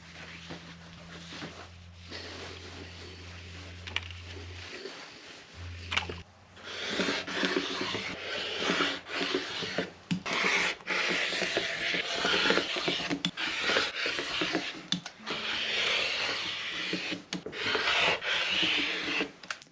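Fabric fat quarters are cut into quilting strips with steady scraping, rubbing cutting strokes, close and continuous, after a brief low hum at the start.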